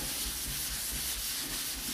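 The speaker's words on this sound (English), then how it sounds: "This is the kind of action that I'm using when I'm sanding this" Rhythmic back-and-forth wet sanding scrape on a primed car body panel of a Fiat Spider, close and steady, with a hissing abrasive texture.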